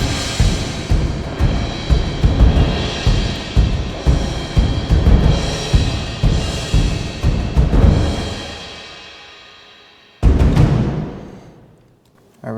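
Orchestral epic drums and toms pound in a repeating heavy rhythm with crashing cymbals and gong swells, building for about eight seconds, fading, then one huge gong-and-cymbal hit rings out and decays.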